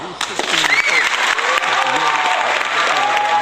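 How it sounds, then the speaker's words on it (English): Loud, dense applause from the audience at a boxing press conference, a continuous wash of clapping with a few cheers mixed in, steady throughout at close range. "Give him a round of applause."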